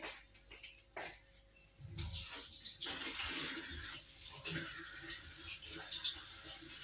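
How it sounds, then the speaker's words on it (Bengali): Chopped leafy greens (shak) are washed in water, with splashing and swishing that starts with scattered clicks and then becomes a denser, continuous sloshing churn throughout. "শাকটাও কেটে বেছে নিয়েছি, ধুয়ে নিচ্ছি।"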